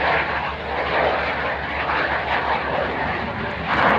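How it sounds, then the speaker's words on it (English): The Frecce Tricolore jet aerobatic team flying a display, heard as a loud, continuous broadband roar of aircraft that holds steady and swells slightly near the end. "we'll just see the Frecce Tricolore finish their display with a crazy flight"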